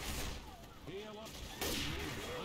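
A sharp gunshot from a sniper-style no-scope headshot in Left 4 Dead during the Crash Course campaign, one abrupt loud crack cutting in near the end amid noisy game sounds and a voice.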